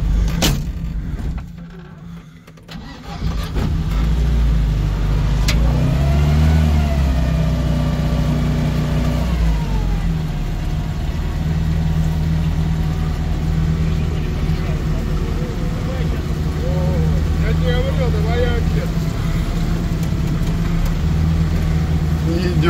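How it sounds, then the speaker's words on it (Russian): A UAZ off-road vehicle's engine runs steadily with a low, sustained drone and some revving, loud and close throughout, stuck on a muddy off-road track with people talking briefly near the start. "Опять УАЗ едет меня спасать."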